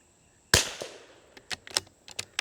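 A sharp .22 rifle gunshot cracks loudly, followed by a scattering of quieter clicks and snaps; outdoors, windy, no voices.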